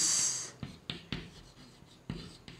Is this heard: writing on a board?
yes